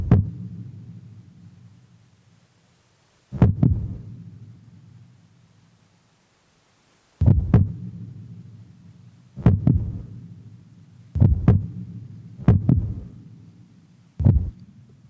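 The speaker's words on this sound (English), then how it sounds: "back to the example of my lonely heartbeat that was asking a question" A heartbeat plays in an art installation, heard as loud, isolated thumping beats with long gaps between them, each one decaying into a low resonant hum before the next.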